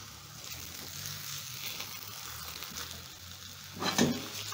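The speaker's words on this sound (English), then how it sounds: "Today I'm doing shallow frying." Plantains shallow frying in oil give a steady, soft sizzle with faint crackle throughout, plus a brief louder burst of spattering or stirring near the end.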